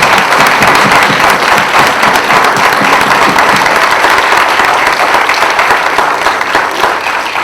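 A city candidate debate audience in Orem gives loud, sustained applause, a dense, even wash of clapping that continues unbroken throughout.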